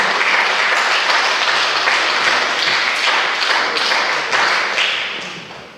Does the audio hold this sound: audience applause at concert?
yes